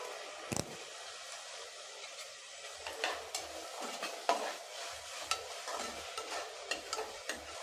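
Tomatoes and curry leaves sauté in a pan for a cabbage dish: a quiet, steady sizzle with repeated soft scraping stirs and one sharp clank near the start, close and without speech.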